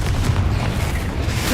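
A Confringo spell explosion in Hogwarts Legacy, heard as a dense, rumbling boom that fills the whole short moment with heavy low-end roar.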